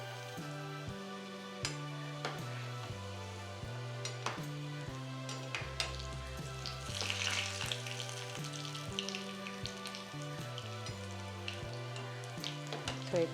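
Banana flower kola urundai balls frying in oil over a low flame, giving a soft, steady sizzle and crackle heard close under a musical background, with occasional clinks.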